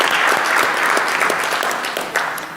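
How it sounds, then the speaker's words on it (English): Sustained audience applause at a town deliberative session, broad steady clapping from a seated crowd for the Budget Advisory Committee members, dense and fairly loud throughout, easing slightly toward the end. "stand up and take applause because the folks on that committee do a lot of work"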